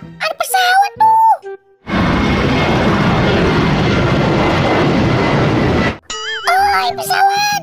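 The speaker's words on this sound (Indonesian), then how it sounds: "Wah, ada pesawat tuh." An airplane passes overhead as a loud, broad rushing roar that holds for about four seconds, set between bursts of animated, cartoonish voices talking just before and after.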